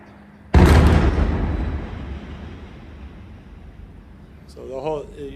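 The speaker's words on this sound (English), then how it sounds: "So these are airstrikes." A nearby airstrike explosion close to a hospital, a sudden loud blast with a long rumbling decay, followed by a voice speaking softly at the end.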